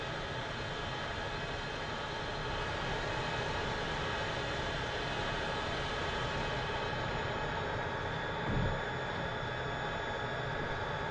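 A Czech L-39 Albatros jet trainer idles and taxis in the DCS flight simulator, its engine a steady, dense turbine roar and whine that holds unbroken throughout, with a brief low thump near the end.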